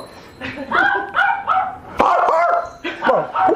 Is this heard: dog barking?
yes